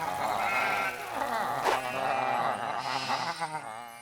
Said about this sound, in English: Oh no! Sheep!